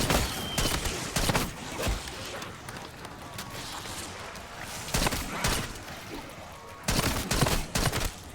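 Bursts of gunfire from a weak weapon in Call of Duty: Black Ops 6 Zombies mode, in several loud clusters of rapid shots separated by quieter stretches of game ambience.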